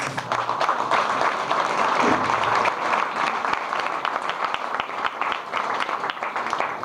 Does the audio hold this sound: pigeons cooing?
no